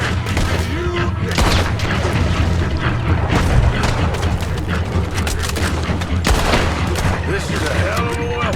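Gunfire in the video game Red Dead Redemption 2, a dense barrage of loud booming shots and rapid fire over continuous battle noise, with voices shouting over the chaos.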